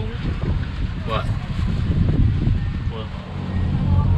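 Strong, cold wind buffeting the microphone with a constant low rumble on an island in Miami, while voices talk faintly underneath.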